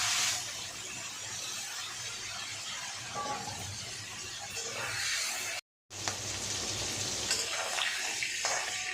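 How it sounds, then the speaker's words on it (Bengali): Rohu fish heads frying in oil in a pan, a continuous moderate sizzle with faint clatter as pieces are lifted out, briefly cut off once, with no talking. "এইভাবে আমি সব মাথাগুলো ভেজে নেবো"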